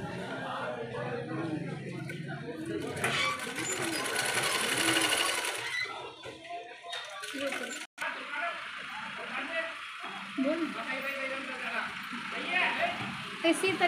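An electric sewing machine stitching strips onto a long gown whirs in steady bursts close by, pausing briefly between runs while someone speaks over it.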